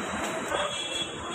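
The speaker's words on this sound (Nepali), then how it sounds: "अब चाहिँ हाम्रो प्लेटफर्म 6 मा बल्ल हाम्रो जाने ट्रेन आउँदैछ" A passenger train pulls in at platform 6 of a railway station: a steady, fairly loud rolling rumble with a thin high metallic squeal running through it, and no voices.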